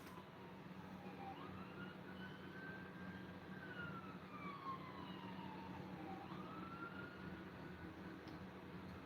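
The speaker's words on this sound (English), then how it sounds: "If that's an ambulance, I think the ambulance just went by." An ambulance siren sweeps slowly up and down as it passes at a moderate distance, a single wailing tone rising and falling over steady background noise.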